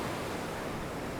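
Big lake waves breaking on a Lake Erie beach in a winter windstorm, six to seven feet high, make a dense, continuous roar of surf mixed with wind, loud and steady through a brief stretch with no talk.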